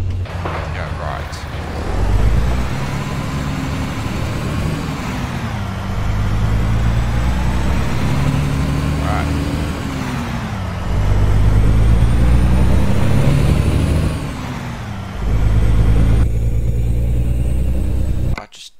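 Kenworth T800 truck engine in the American Truck Simulator game, a loud, steady low drone whose pitch rises and falls with gear changes, running continuously under a talking voice.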